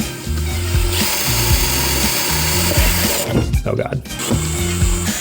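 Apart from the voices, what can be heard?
drilling into a motherboard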